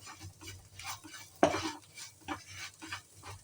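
Cumin, coriander and chilli powders fry in hot oil and are stirred with a spoon in soft, quiet scrapes, with one sharper clink of the pan near the middle.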